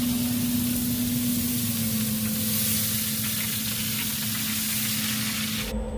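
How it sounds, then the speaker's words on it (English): Water spray hissing onto a smoking brisket in a BBQ pit running around 250, a steady broadband sizzle and spray close by with a constant low hum beneath, no talking. "I have to spray some water."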